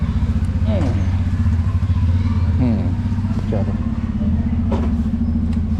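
A Suzuki V-Strom SX 250 motorcycle engine idles and then revs as the bike pulls away on a test ride, the low steady rumble running throughout under a brief spoken word.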